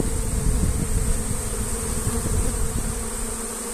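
A large swarm of honey bees at an apiary, heading for old drawn comb, fills the air with a loud, steady, dense buzzing drone that never breaks and carries no voices.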